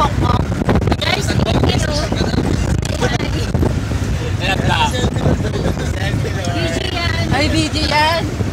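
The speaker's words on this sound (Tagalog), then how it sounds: "Ang hangin ko sa labas." Steady wind roars and buffets across the microphone outside on a boat off Anilao, Batangas, loud throughout, while several people chat over it.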